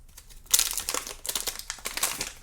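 Epson ink cartridge package for a WorkForce Pro WF-4820 printer being torn open by hand, with a burst of crinkling, ripping plastic and foil starting abruptly after a brief quiet moment, then continuing in irregular rustling bursts, close and fairly loud.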